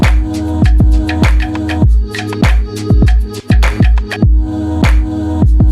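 Roland SP-404 MK2 sampler playing a looped pattern with a raised attack envelope, loud rhythmic pumping hits with a sidechain-like swell, repeating steadily throughout without talk.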